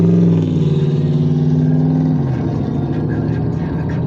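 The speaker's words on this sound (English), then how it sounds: "that truck has completely dysfunctional suspension" A truck with badly failing suspension drives past as a loud, steady engine drone with a strong low tonal hum that shifts down partway through, continuous and close for the whole stretch.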